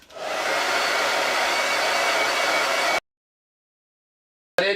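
A hair dryer blows loud and steady close by, drying a chalk paste transfer, then cuts off abruptly and starts again briefly at the end.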